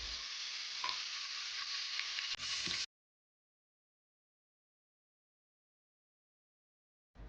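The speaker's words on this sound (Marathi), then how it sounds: "त्यात शेंगदाणे काजू कांदा आणि आलं लसूणची पेस्ट ऍड करून याला छान फ्राय करून घ्यायचं" Cumin, curry leaves, peanuts, cashews, onion and ginger-garlic paste frying in hot oil with stirring, a loud close sizzle that cuts off abruptly into silence, then briefly resumes at the end.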